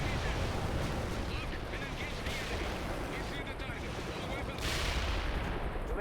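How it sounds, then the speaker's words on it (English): Mi-24 attack helicopter making a full-speed flyby gunfire attack in the World in Conflict war game, with dense, continuous gunfire and explosive rumble filling the whole stretch, loud and close throughout. "Commencing flyby attack."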